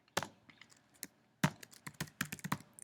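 Computer keyboard keys tapped while entering HTML button code, short bursts of clicks at an irregular pace, close and alone.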